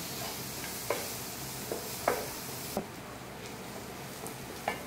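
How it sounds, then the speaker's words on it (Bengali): Chopped onions with a little salt fry to golden in a pan, a steady sizzle under sharp, intermittent scrapes and clacks of a spoon stirring, close and moderately loud with no talking. "পেঁয়াজটাকে এরকম গোল্ডেন করে ভাজা হবে।"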